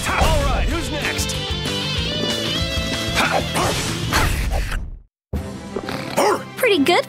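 A dog character barks and yips amid battle clashes and impact sounds in Tales of Vesperia: Definitive Edition, with voices and music throughout and a brief silent gap partway.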